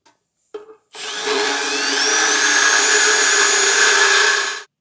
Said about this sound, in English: So I'm just going to use a carbide burr bit and get this a little bit farther towards the outside